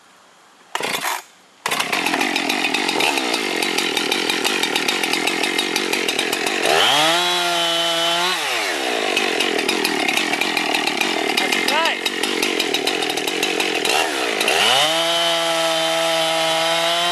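A freshly sharpened chainsaw with aggressive rakers cuts into wood, with a loud, continuous high-pitched buzz and several dips in pitch as the engine bogs under load. It starts after a short pull and stays up close, with no voices.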